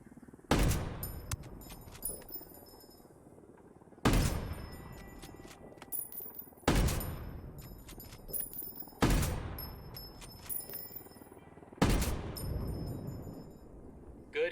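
Heavy video-game gunfire aimed at a helicopter comes in five loud bursts of shots and booms, each ringing out and decaying before the next, spaced a few seconds apart.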